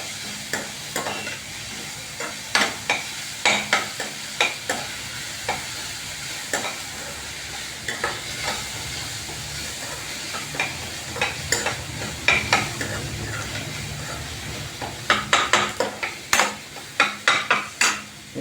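Onions with a little salt fry in a pan for an egg ghotala dish: steady sizzle throughout, with repeated sharp clinks and scrapes of a spatula stirring against the metal, alone with no voices.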